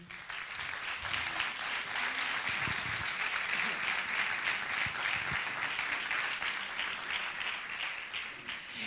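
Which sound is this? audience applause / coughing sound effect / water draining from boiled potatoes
audience applause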